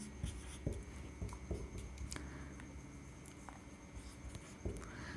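An accounting entry written by hand in an accounts lesson, with soft scratchy pen strokes and small taps on paper in an irregular rhythm, close and quiet over a faint room hum.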